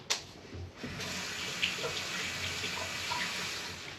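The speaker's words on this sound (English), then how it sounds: "Now I'm gonna rinse this under the faucet because it's kind of stuck." Tap water runs steadily from a faucet over the roots of a lipstick plant (Aeschynanthus) being rinsed during repotting, a continuous close hiss with a brief splash at the start.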